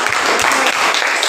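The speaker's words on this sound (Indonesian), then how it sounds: "Ya, kasih tepuk tangan" A classroom group gives a short, loud burst of dense clapping, many hands together in a brief, continuous patter.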